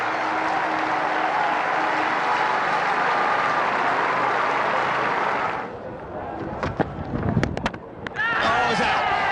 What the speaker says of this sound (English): The majority of the crowd give him a good reception